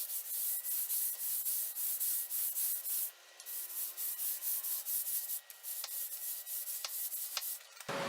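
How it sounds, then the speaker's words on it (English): A scrub brush rubs back and forth over tile grout in quick, rhythmic strokes, close and steady with a few brief breaks, and no talking. "So now we've given that a scrub"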